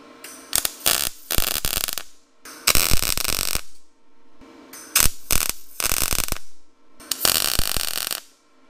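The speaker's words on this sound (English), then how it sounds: "let's get this tacked in place" Tack welding angle iron onto a jig for building a motorcycle gas tank, heard as four loud bursts of crackling, buzzing arc a second or so each, separated by short pauses, close and with no talk.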